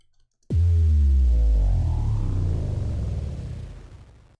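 A downer effect in a Bitwig electronic track: a sudden heavy low boom that drops in pitch and swells into a sustained rumbling sweep, slowly fading over several seconds.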